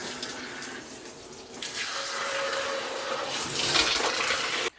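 Water streams steadily from a tropical rain shower head in a shower cabin, a broad hiss that swells louder toward the end before cutting off abruptly.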